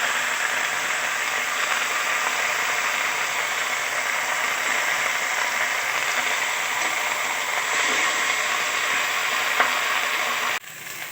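Vallarai greens and urad dal sauté in a pan, giving a steady, close, continuous sizzle that holds evenly throughout and ends with a brief knock near the end.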